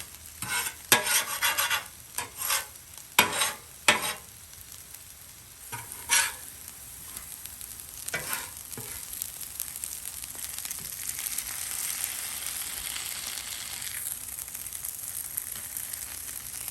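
Hash browns fry in bacon grease on a Blackstone griddle, a steady crackling sizzle with scattered louder scraping and stirring bursts early on, close and alone without talk.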